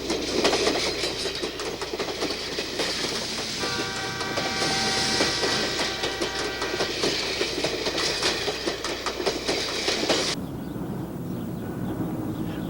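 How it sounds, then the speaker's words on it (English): A historic steam train on a White Pass mountain railway, in service since 1898, rumbles and clatters steadily along the track with a sustained metallic squeal midway, loud and close, before the noise drops abruptly near the end. "they can board the old Steam Hall train, which has been in operation since"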